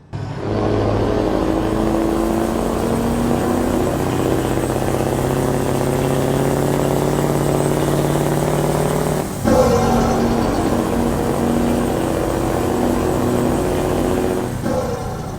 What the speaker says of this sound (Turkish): Ben biraz düşeyim de aracın sesini bir dinleyelim.